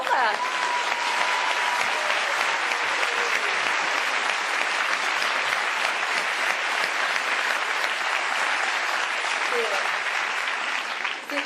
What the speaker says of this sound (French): j'adore les applaudissements